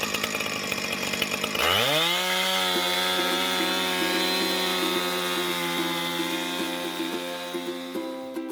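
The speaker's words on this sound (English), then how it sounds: "Now I gotta buck up a few more logs about this size so I can chop them up for carving." A chainsaw bucking logs into carving blanks starts rough, then climbs to a loud, steady high-revving whine that holds as the chain cuts through the wood, with small ticks and a slight fade near the end.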